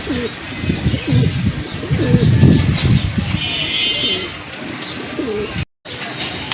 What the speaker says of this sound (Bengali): ডান পাশেরটা হচ্ছে মাদি কবুতর বাম পাশেরটা নট কবুতর